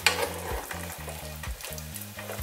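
Chicken in sweet and sour sauce sizzles loudly in a hot pan while a spoon stirs it, making a steady frying crackle broken by rhythmic scraping strokes, with no one talking.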